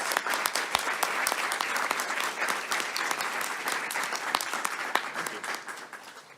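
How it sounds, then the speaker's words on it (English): An audience at a North American energy conference applauds a student scholarship winner with sustained, dense clapping, close and fairly loud, with crisp individual claps standing out throughout. "let's give him a big round of applause"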